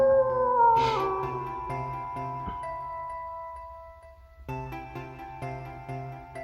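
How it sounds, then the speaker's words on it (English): A wolf howls in the video game Superbrothers: Sword & Sworcery, one long gliding, sustained call over soft layered synth tones that fade and then return. "Somehow the wolf is back."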